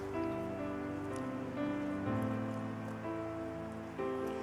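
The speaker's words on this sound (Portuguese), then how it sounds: "Ai, é bom demais essa chuva." Rain keeps falling in a constant, gentle wash beneath held keyboard chords that shift now and then, with no voices.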